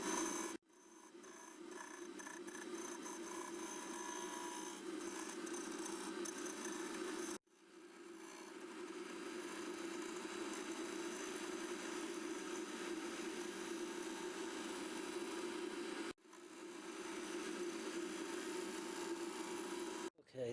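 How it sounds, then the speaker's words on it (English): Shear scraping on a yew natural-edge hollow form spinning on a wood lathe gives a steady, even rasping hiss. The sound runs continuously in three long passes, broken by brief silent gaps. "Just done a bit of shear scraping on it there."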